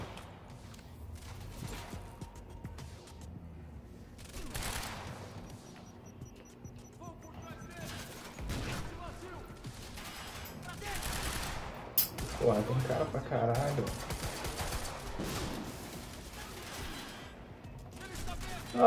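Repeated gunfire from shooting in the video game Quantum Break, played on the hardest difficulty. Scattered bursts sound at moderate loudness with a denser stretch midway, alongside game effects and occasional talk.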